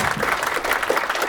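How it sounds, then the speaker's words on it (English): Brief audience applause at a women's health panel, a steady close patter of clapping from a modest crowd lasting only a moment. "you can give her a round of applause"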